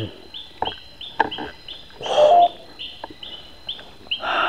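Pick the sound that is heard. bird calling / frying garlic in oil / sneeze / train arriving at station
bird calling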